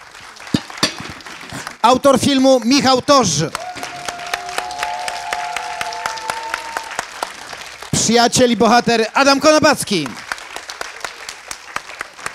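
Audience applause at a film discussion panel, sharp claps running steadily through the whole stretch while someone speaks over it in two bursts, making introductions into a microphone.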